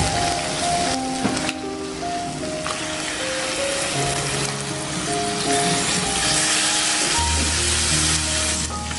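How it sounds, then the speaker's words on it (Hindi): Mutton keema frying in hot oil and masala: a steady, loud sizzle with crackling spatter throughout, heard alone without voices. "देखिए मसाले ने तेल छोड़ दिया है, ये अच्छे से फ्राई हो चुका है, अब मैं इसमें ये मटन कीमा ऐड कर देती हूँ।"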